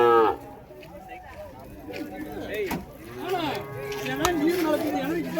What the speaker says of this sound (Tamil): நல்ல சூப்பரான ஒரு பசுமாடு கொண்டு வந்திருக்காங்க, நாட்டு பசுமாடு